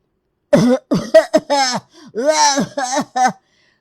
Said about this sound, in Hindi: गुस्से में उन्हें खांसी आ गई